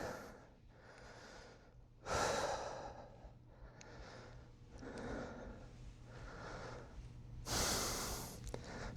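Deep, forceful breaths during a yoga exercise, rhythmic exhales and inhales repeating several times close up, with a couple of sharper, louder bursts.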